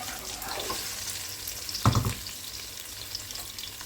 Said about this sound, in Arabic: هلا عندي هون بصلة بدي اضيفها، احرك لحتى تدبل البصلة